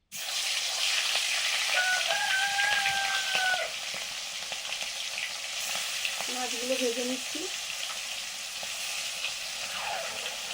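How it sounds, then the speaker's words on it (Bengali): Lentil fritters fry in mustard oil with a steady, close sizzle throughout, briefly overlaid by a few whistling tones and a short mid-pitched clatter. "সর্ষের তেল দিয়ে দিলাম ডালের বড়াটা করার জন্য সব কিছু মাখিয়ে নিচ্ছি"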